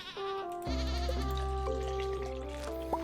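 Sheep bleating in Stardew Valley, a single drawn-out tonal bleat over a steady farm background, fairly loud and close.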